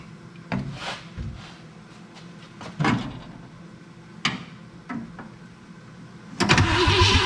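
A 1966 Ford Thunderbird, last driven in 1977, has its engine turned over. Scattered mechanical clunks and short bursts lead up to a louder sustained cranking rumble at the end.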